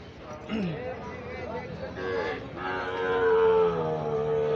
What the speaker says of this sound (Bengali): এখানে কিন্তু অনেকগুলা বাছুর গরু আছে যেগুলা আসলেই দেখার মতো এবং সুন্দর